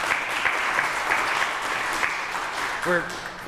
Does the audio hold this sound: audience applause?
yes